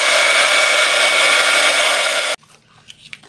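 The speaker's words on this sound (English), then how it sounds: "I'm gonna hit it with a heat gun" A heat gun drying archival ink blows as a loud, steady, close roar for about two seconds, then cuts off abruptly, leaving faint small handling noises.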